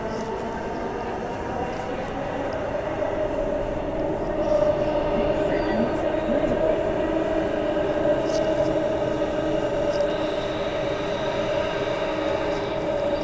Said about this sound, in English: now we wait for the train to depart.